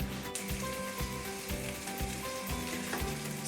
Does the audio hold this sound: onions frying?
yes